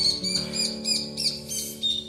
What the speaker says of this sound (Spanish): Los pajaritos, como todas las mañanas.